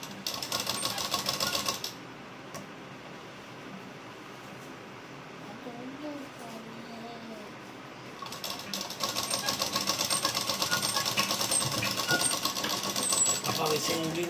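A sewing machine stitching a blouse runs in steady bursts, loud and close, with a quieter stretch in the middle where it slows.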